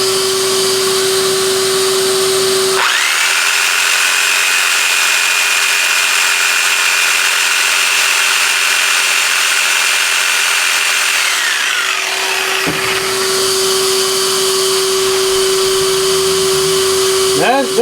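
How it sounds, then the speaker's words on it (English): A corded Sawzall reciprocating saw powered by a Bluetti power station starts with a jolt and runs at a loud, steady buzzing roar for about eight seconds. It winds down, then a constant electrical hum continues, close up with no talking. "Now let's do the Sawzall."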